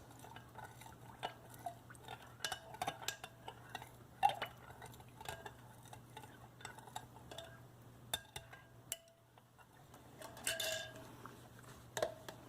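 Cold process soap batter is stirred in a container, with faint, scattered clinks and light scraping of a utensil against the sides over a steady low hum.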